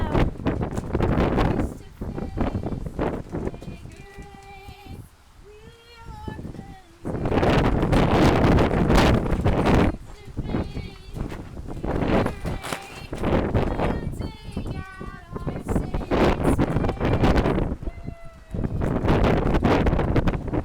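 Gusty wind buffets a microphone outdoors in loud, broadband rumbling bursts that come and go, while people talk and a ukulele plays tonal notes in the calmer gaps.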